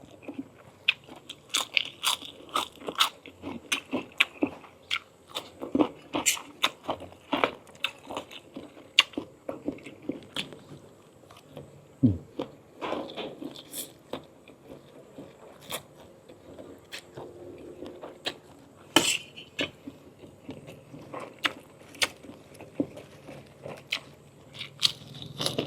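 Crunchy chewing and biting of Thai fermented pork (nam), close and intimate, with irregular sharp crunches scattered throughout a long stretch of eating and no speech.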